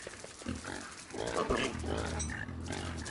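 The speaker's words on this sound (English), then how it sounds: "Where are you, piggy pigs?" Pigs in the survival video game Don't Starve grunt and snort in a cluster of short, low calls over a game background, fairly close.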